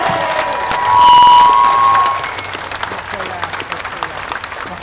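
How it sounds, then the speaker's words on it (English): A crowd at an outdoor rally in Perth, Western Australia, claps and cheers in a loud, diffuse wash of hands and voices, with a brief tonal whine in the first seconds. "Big clap for them."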